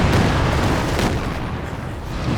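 Nebelwerfer rocket artillery in Company of Heroes 2 pours out a loud, dense, continuous roar of overlapping blasts and rumbling booms that holds steady for the whole stretch.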